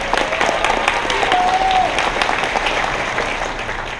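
Conference audience applauding for a live illustrator, a dense steady wash of clapping from a sizeable crowd, with a brief whoop or whistle partway through before it gently tapers off.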